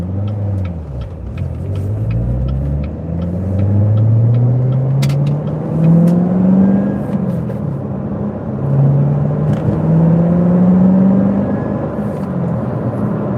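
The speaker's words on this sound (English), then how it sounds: "That subtle supercharger whine, man" Corvette C7 Z06 with a manual gearbox driving on the road, its engine rumbling and revving in repeated rising pulls while a thin supercharger whine rides above, steady and close throughout.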